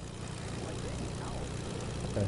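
A plane in the Fortnite video game drones with a steady, dense engine roar, close and continuous throughout, with players talking faintly underneath.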